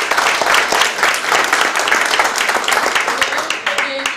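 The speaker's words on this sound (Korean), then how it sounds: "저랑 뜻을 같이 해주신다면 박수로 화답해 주시기" Residents clap together at a town hall meeting between the Icheon mayor and Gwango-dong citizens, a dense, steady burst of applause filling the room, tapering slightly near the end with a faint voice.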